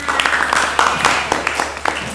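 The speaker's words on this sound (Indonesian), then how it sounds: "tepuk tangan dulu untuk kerjasamanya" A small group claps together, the individual hand claps audible as a brisk, uneven patter in a room, with a few voices mixed in.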